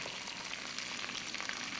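Onions and other vegetables such as zucchini and broccoli sizzle in hot oil in a pan, a soft, continuous crackling hiss heard up close with no talking.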